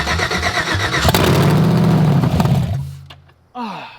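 A GM LS V8 swapped into a Chevy S10 pickup cranks and catches briefly, a loud churning start that rises for about two seconds then sputters out, followed by a short second burst of cranking.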